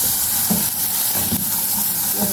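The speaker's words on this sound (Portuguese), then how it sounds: "Aí deixa refogar bem." Beans with no broth sauté in a hot pan, filling the clip with a steady, close, loud sizzle and hiss, with a few soft stirring knocks and no talk.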